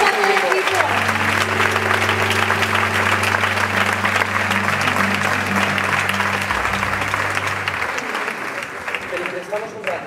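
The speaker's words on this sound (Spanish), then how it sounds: "Un aplauso muy fuerte para él." Loud, sustained applause from an audience for a man after a presentation, dense clapping throughout with a held musical tone underneath and some talk, fading slightly near the end.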